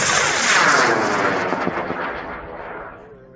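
A high-power model rocket on a J250 motor lifts off from the pad, its loud roaring rush sustained and slowly fading as it climbs away over a few seconds.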